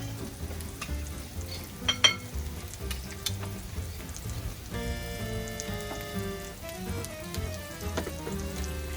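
Bacon frying in a pan for an English breakfast, a close, continuous crackling sizzle with scattered pops and a few louder spits.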